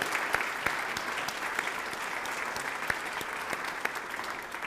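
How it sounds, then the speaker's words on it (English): Steady audience applause for Drew at the Rosie Awards, a chamber of commerce event, heard as a dense, even wash of many hands clapping at a fairly quiet level for the whole stretch. "let's give Drew a big round of applause"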